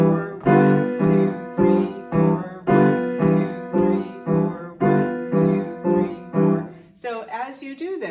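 Piano chords of a blues five chord struck in a steady four-beat rhythm, each chord ringing briefly before the next, ending with a short run of higher notes.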